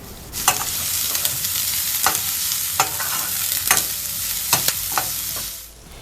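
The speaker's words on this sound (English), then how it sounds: "Add garlic. Stir fry until golden brown in low heat." Garlic stir-fries in a pan over low heat, giving a steady, fairly loud sizzle. Sharp scrapes and clinks of the spatula against the pan come at irregular intervals, and no one speaks.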